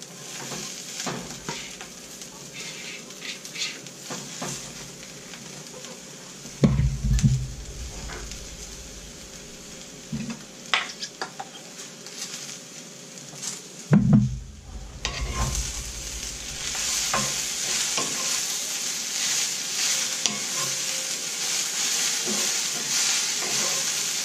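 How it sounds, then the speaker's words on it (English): Tempeh and vegetables sizzle in a pan in a steady, close frying hiss, broken by a few thumps and clatters as more vegetables are added and stirred, with the sizzle growing louder toward the end and no voices. "we're going to go ahead and throw in the rest of our vegetables. So that tempeh is going to continue to cook."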